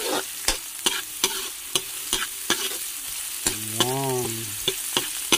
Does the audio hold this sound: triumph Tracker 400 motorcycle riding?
no